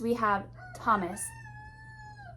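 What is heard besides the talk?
rooster crowing in the background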